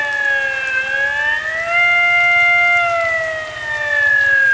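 A loud wailing siren rises and falls steadily, sounding alone without any voices.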